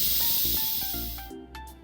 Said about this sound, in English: completely done releasing the steam